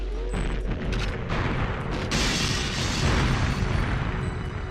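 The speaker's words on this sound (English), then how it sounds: "See what I said about everything exploding?" A deep, booming explosion erupts in the N64 game GoldenEye 007 on the Surface level, a loud rumbling blast that swells midway and rolls on with crackling debris, close and filling the scene.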